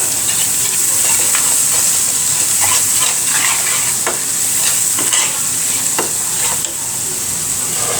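Chili powder, turmeric, salt and spices stirred into hot oil for a bata fish chorchori with potato and drumstick, a steady close sizzling hiss with repeated scraping strokes of a spatula throughout.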